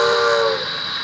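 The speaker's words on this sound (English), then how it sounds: "2 is the long whistle." Steady steam whistle blast from a Bachmann Spectrum K4s post-war model locomotive's sound system, loud and close, holding a clear tone before easing off near the end.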